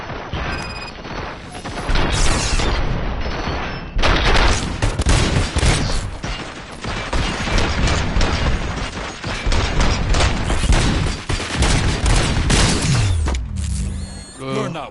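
Sustained automatic gunfire and rapid bursts from a shootout in the video game RoboCop: Rogue City, loud and dense with booming impacts and mechanical clatter, easing into quieter rumbles near the end.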